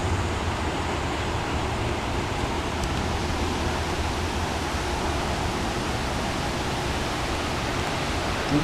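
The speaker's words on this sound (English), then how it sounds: "Okay, here comes the rain." Heavy thunderstorm rain in Poughkeepsie in New York's Hudson Valley, a steady dense roar of downpour that holds at an even loudness throughout, with no talk over it.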